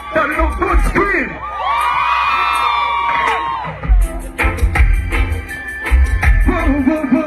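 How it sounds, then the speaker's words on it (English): A crowd of women at a live concert screams, whoops and cheers in loud sustained bursts, with an amplified voice calling over the noise. "Can I hear a lady that look good scream?"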